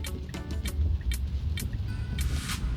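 A Tesla car drives through residential streets, giving a steady low road rumble with a few faint clicks and ticks over the top.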